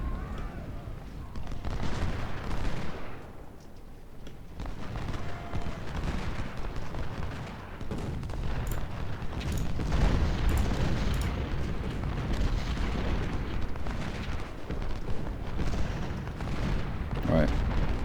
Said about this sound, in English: And our cannons, what are you aiming at?